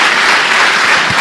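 A church congregation applauding during a sermon, loud dense clapping filling the room evenly from start to finish.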